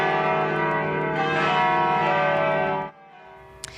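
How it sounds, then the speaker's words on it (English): Church bells at Denver's Basilica of the Immaculate Conception ring out in a dense, sustained peal for about three seconds, then stop abruptly, leaving quieter ambient sound. "And bells ringing out from Denver's Basilica of the Immaculate Conception."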